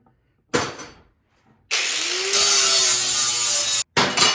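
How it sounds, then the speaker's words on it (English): A power grinder sharpens a Toro lawn mower blade in short bursts: a brief grinding burst, a pause, then a longer loud whine with a shifting pitch that stops abruptly and starts again. "So to do this job, I use a grinder."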